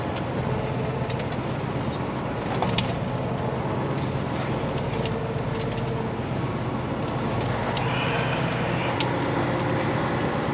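A semi truck with a dry van trailer backs up to a shed, a steady loud engine rumble with faint intermittent reversing beeps, heard from close by without talk.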